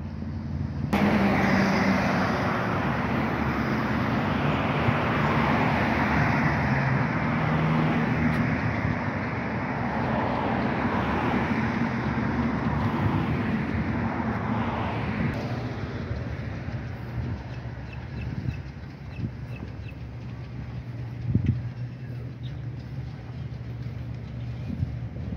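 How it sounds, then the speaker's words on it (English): A German-made Rewaco trike rides past, its engine a steady broadband rumble that holds strong for about fifteen seconds before easing off and fading into the distance. "Rewaco, the ultimate trike. Great looking, great riding machine."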